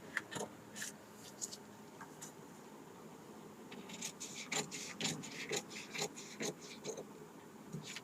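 Scissors snip through blouse fabric in a series of quiet, crisp cuts, sparse at first and then coming in quicker rhythmic bursts close by.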